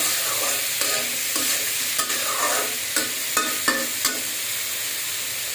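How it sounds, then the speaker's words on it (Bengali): Bitter gourd (karela) frying with salt in a pan, a loud, close, continuous sizzle with a run of spatula scrapes and taps against the metal, no talking. "করলা ভাজির মধ্যে আগে কিচ্ছু দিব না, শুধু লবণ দিয়ে ভাজি করব"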